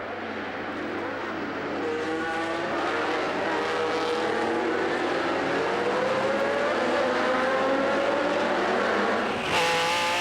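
An 800-horsepower Ferrari 712 roars through a historic race at Spa-Classic, its engine pitch climbing steadily through a long, loud pull, with other racing machinery droning close behind and a sharp burst near the end.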